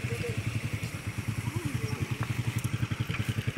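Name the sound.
motorcycle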